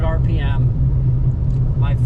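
A one-ton pickup cruises at about 65 mph and 2,800 RPM on a highway, towing an empty 3,600-pound scrap trailer. A steady, deep road rumble runs beneath someone talking throughout.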